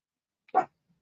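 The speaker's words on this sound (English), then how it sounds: "now she's going to start barking" A dog gives a single short, sharp bark close by in a quiet room, with no one talking.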